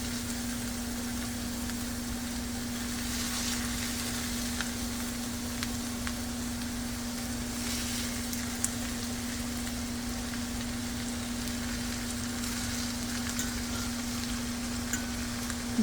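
Browned meat for Swiss steak with Italian-style tomatoes goes into a hot pan, giving a steady, even sizzle and frying hiss that holds for the whole stretch, joined by a constant low hum and no talk.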